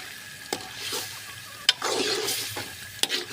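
Beef pieces fry in a spicy masala for beef kosha, a continuous sizzle punctuated by a few sharp spoon scrapes and knocks against the pan, close by and clear, without speech.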